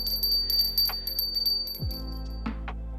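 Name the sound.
small handheld bell being rung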